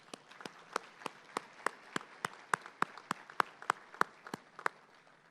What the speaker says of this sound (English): let's get a big round of applause for our members and sponsors